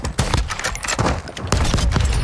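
Gunfire in a video game free-for-all match, a dense, loud stream of rapid shots and bursts with thuds, continuous throughout.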